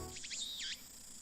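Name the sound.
cicadas chirping at a shrine, from video game Steins;Gate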